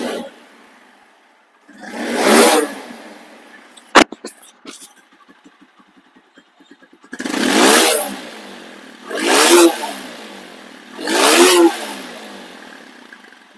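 Engine of a second-hand 2023 X Connect 4V motorcycle, close and loud, revved in four distinct surging bursts between quieter idling, with a sharp click and a short ticking patch in the middle.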